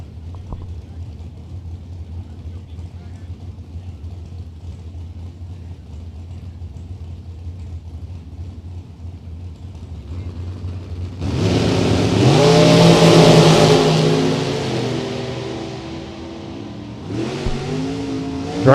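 A drag racing dragster and an S10 at the starting line: engines idle low for several seconds before a loud revving burst swells, fades, then revs again near the end, with an announcer talking over it.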